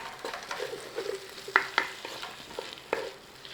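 Onions, garlic, potatoes and Brussels sprouts fry in a pan with a steady close sizzle, broken by several sharp scrapes and clacks of a utensil stirring them.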